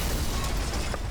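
Train crashing into itself in the Little Big Planet 2 video game, a short, loud, dense burst of crunching impact noise heavy in low rumble, close and without speech.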